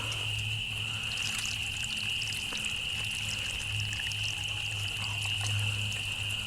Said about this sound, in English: I'm going to add lots of water